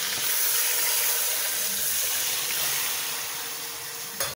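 Water pours into a pressure cooker holding beef ribs, a loud, close hissing rush that slowly eases and ends abruptly with a clunk.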